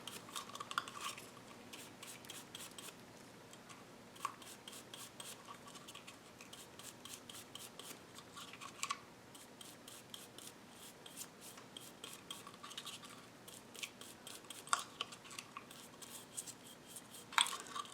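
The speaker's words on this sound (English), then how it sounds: "I'm okay with the strokes of the paintbrush on the jar." Small paintbrush making soft, repeated rubbing strokes across a mini mason jar, being painted for a farmhouse or beach house look. The faint, close brushing comes in quick bursts with brief pauses, and no one speaks.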